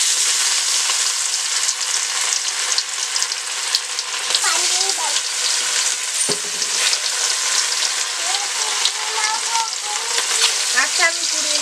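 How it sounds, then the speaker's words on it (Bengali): Fish pieces rubbed with salt and turmeric fry in hot oil with a loud, steady, close sizzle and crackle, with occasional stirring sounds and faint voices in the background. "মাছগুলো ভেজে নেব।"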